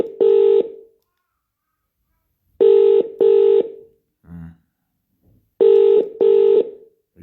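Phone dialing tones, then outgoing call ringing in paired, steady electronic bursts separated by silence, loud and close.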